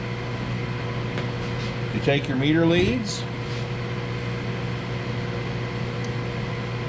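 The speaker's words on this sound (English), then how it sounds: "Okay, I've just turned the microwave on." A microwave oven runs with a steady electrical hum and a constant low drone throughout, while someone speaks briefly over it.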